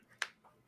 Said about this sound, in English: I got somebody clapping over here.